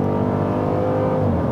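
A 2018 Dodge Durango SRT V8 SUV exhaust, naturally aspirated, burbling on a gear shift at altitude: a steady, loud, close engine drone with a low, rumbling throb and no talking.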